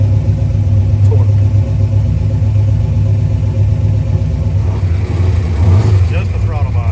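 A Trooper running on a chassis dyno, its engine holding a loud, steady droning rumble close by, with the pitch shifting slightly toward the end.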